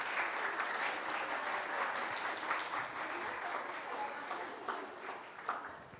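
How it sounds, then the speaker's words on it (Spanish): A church congregation applauding, dense steady clapping from many people that continues evenly and fades slightly toward the end. "Pueden aplaudirles, darles un abrazo."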